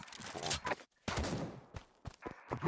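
Bursts of rapid gunfire in a VR shooter game, several short loud volleys separated by brief silences, close and punchy, with a voice talking faintly between them.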